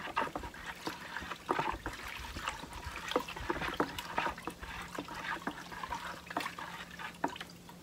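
Thinned paint being stirred in a container while prepping traps for a new season: steady wet sloshing and dribbling with irregular soft clicks and knocks, close and fairly quiet, with no voice.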